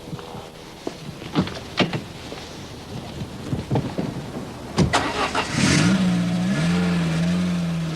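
Car being driven, with scattered clunks and knocks before a loud engine starts up and settles into a steady drone, close to the listener.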